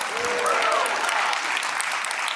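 A large audience bursts into dense, sustained applause, a steady roar of clapping at a marketing conference keynote, with a faint voice briefly audible beneath it.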